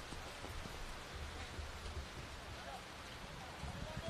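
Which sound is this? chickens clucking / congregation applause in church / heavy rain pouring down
heavy rain pouring down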